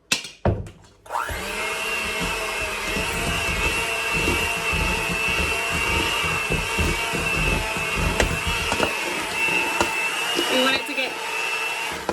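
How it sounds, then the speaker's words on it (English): A handheld electric mixer beats a cup of peanut butter in a bowl, a steady continuous motor whir with rattling beater clatter, starting after a brief pause and running loudly to the end. "we are going to mix this up with our hand mixer"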